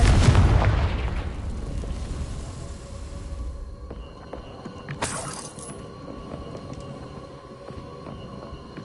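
A Confringo explosion spell in Hogwarts Legacy, a loud booming blast at the start that decays into a rumbling tail, followed by a sharper magical burst a few seconds later.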